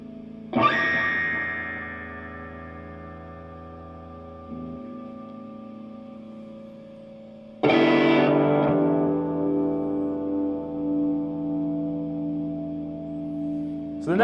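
Electric guitar on the neck mini humbucker pickup of a Novo Serus J, with two strummed chords that ring out and slowly decay through an effects chain with distortion and chorus-like shimmer.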